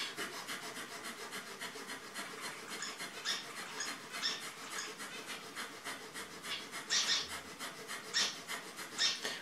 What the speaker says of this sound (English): Breath of fire is rapid pumping breath.